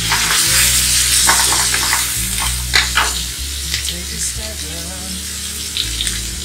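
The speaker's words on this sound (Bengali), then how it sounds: "একটু মশলাটা এখন কষাবো।" Spice paste of garlic, ginger and ground coriander sizzling and frying in a pan for a Bangladeshi tehari and kofta curry, a loud steady crackle with stirring scrapes and no talking.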